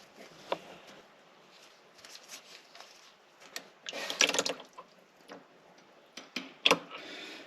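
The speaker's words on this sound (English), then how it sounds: "Simply break it free and start draining the oil." Oil drains from the engine drain plug of a Polaris RZR in a faint, close trickle, scattered with light drips and small metallic ticks, with no voices.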